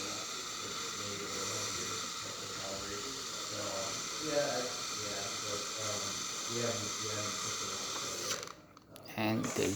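Steam wand on a Jura C8 coffee machine being tested after a tune-up, giving a steady broadband hiss with a faint rhythmic mechanical pulsing underneath, moderately loud throughout and briefly cutting near the end.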